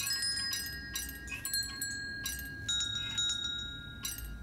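Repeated metallic bell chimes in the puzzle game The Room 4: Old Sins, ringing in several bright, spaced strikes over a low ambient hum, clear and fairly close with no talking.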